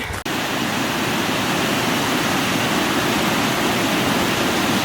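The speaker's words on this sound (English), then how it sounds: "The river is so full." A flooded river swollen by a storm roars in a dense, constant rush of water, loud and close after a brief knock at the start.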